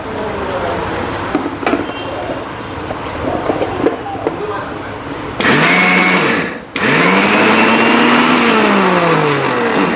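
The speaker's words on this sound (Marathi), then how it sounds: "आणि एकदा आता मिक्सरला हे वाटण फिरवून घेऊ" A kitchen mixer grinds a spice paste filling for stuffed brinjal. After some shuffling and handling noises, the motor whirs up loudly, stops briefly, then spins up again and runs steadily.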